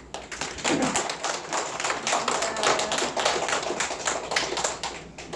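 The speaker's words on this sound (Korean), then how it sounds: "우리 이경영 목사님께 박수" Hands clap in a steady, lively round of applause for a pastor at a praise festival in a Christian care hospital. The clapping is close and sustained, with no talk over it.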